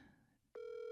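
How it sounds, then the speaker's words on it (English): A phone placing a call in a quiet room: a brief click and short pause, then a loud steady electronic dial tone that holds to the end. "Call Ryan"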